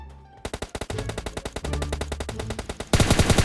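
Rapid automatic gunfire in PUBG Mobile, loud and close, a fast rhythmic burst of dozens of sharp shots after a brief quiet start, ending in a denser, harsher volley.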